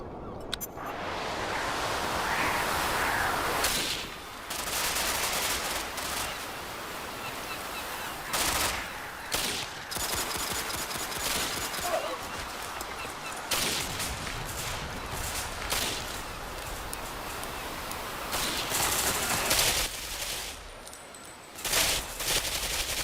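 Sustained gunfire from the online shooter Ghost Recon Phantoms, with dense bursts and sharp single shots rattling through a steady noisy battle bed at close range, loud and continuous throughout with brief gaps.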